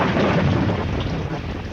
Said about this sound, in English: Like the day he was caught in one of those sudden summer storms.